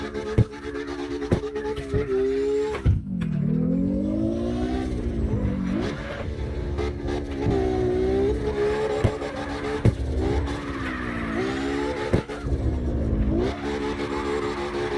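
Car engine in CarX Drift Racing Online revving and bouncing off the limiter in repeated swells while drifting, loud and continuous with sharp gear-shift dips and rises.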